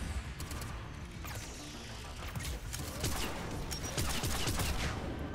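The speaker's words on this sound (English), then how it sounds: "I'm using the pistol that we picked up from Tally." Pistol fire in the video game Mass Effect 3 during a battle against the Geth, sharp repeated shots amid clattering impacts and crashes, fairly faint overall but steady throughout.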